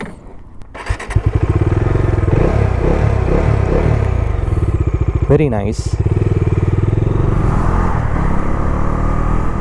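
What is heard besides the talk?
Bajaj Dominar 250 motorcycle riding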